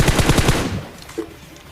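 A quick automatic burst of gunfire in PUBG, several sharp loud shots in a row that stop abruptly and leave a fading echo.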